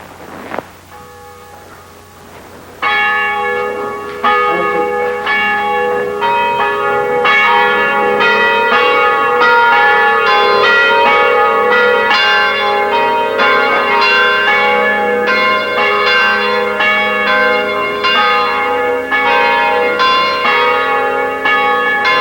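Church bells of a carillon at the Saint-Jacques parish church in Embrun ring loudly, a dense and steady peal of overlapping strikes that continues for about twenty seconds after a quieter opening.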